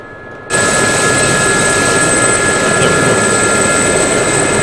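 A Gazelle helicopter engine in the DCS flight simulator kicks in abruptly after a short quiet start, then holds a loud, steady whine and rotor roar with a high tonal hum throughout, alone without voices.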